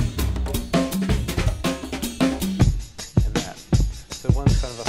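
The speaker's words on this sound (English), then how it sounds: "I've just thrown in two drum loops." Two contrasting drum loops, a fast jazzy one and a slow hip-hop one, play back to back in an Ableton Live set: dense rapid hits first, then heavier, spaced kicks and snares, loud and alone without talk.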